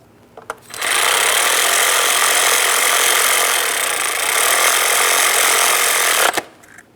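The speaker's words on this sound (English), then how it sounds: "Now we can start in our 10mm headed mounting bolt and snug it up." A power tool drives a 10mm-headed valve cover mounting bolt on a 2003-2007 Cadillac CTS 3.6L V6, making a loud, close, steady whirring buzz that runs for about five seconds and then cuts off sharply.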